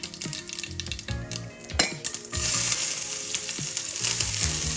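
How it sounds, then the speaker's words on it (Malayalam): Mustard seeds hitting hot oil for a brinjal and curd dish, a sharp crackling sizzle with scattered pops and a few pan clinks, growing into a steady dense fry. "എണ്ണ ചൂടായി കടുകിട്ട്"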